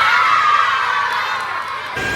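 At a children's science show, a crowd of kids screams and cheers loudly together in one sustained burst that drops off sharply near the end.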